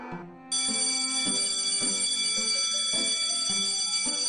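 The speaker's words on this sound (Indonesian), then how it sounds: "Nah, udah bel kan?" A school bell rings continuously in a steady rapid metallic trill, loud and close, starting after a short moment of quiet and going on unbroken throughout, with no talking over it.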